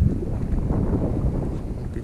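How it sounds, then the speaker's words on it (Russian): Wind buffets the microphone on a lake shore during fishing, producing a loud, continuous low rumble that swells and dips throughout. "правда, ветер дует."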